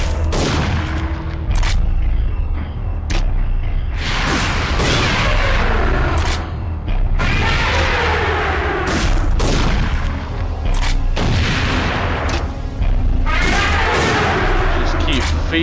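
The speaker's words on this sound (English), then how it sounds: "Just keep feeding him grenades over and over again." Grenade explosions in the PS1 video game Parasite Eve 2 boom repeatedly and loudly, one blast after another every second or two, over a constant rumbling game soundtrack.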